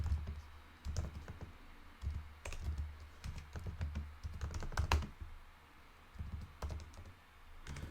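Typing on a computer keyboard at a Linux terminal command line, with close, crisp key clicks in uneven bursts and short pauses, over a faint low hum.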